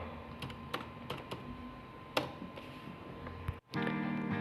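A computer keyboard clicks in a short, sparse burst of keystrokes close by, followed by a steady hum at the end.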